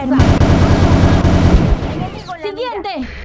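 Sustained automatic gunfire in the online shooter Operation 7, a loud rapid rattle for about one and a half seconds that cuts off, then someone speaks.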